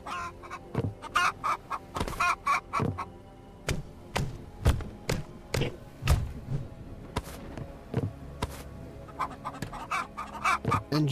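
Bird clucks and squawks from a fowl-like creature in the Everwind video game, in repeated sharp bursts at close range against steady game ambience.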